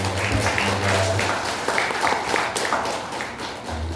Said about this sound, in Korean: 환영하는 박수 하겠습니다.